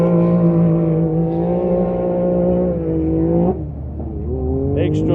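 A Can-Am Maverick side-by-side race vehicle at the Loveday 400 desert race drones loudly, holding a steady engine note before dropping and climbing again as it shifts.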